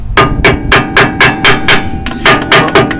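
A hammer pounds out a shock mount on an Early Bronco front suspension, landing about ten loud, close, evenly spaced metallic blows in a steady rhythm with no talking.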